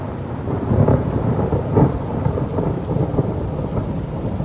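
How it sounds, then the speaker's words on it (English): A hail storm rumbles with rolling thunder over a constant hiss of falling ice and rain, loud and steady throughout with no voices. "It's hailing. And it hurts."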